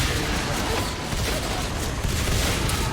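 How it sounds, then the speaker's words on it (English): Shotgun blasts and grenade explosions fill a frantic fight in Natural Selection 2, a dense, loud, unbroken roar of gunfire and booms with no clear gaps. "Coming in there with shotguns and grenades."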